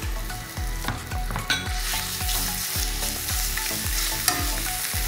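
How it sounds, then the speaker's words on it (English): Garlic and ginger sauté in a hot pan for okra bhaji, giving a loud continuous sizzle broken by regular scraping stirs of a utensil roughly every half second, close up with no talking. "add the garlic and the ginger to here. Saute this around a bit."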